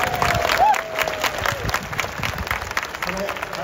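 A stadium crowd at a Yakult Swallows baseball game cheers and applauds steadily during a post-game hero interview, the broad crowd roar continuing under a nearby interviewer's voice.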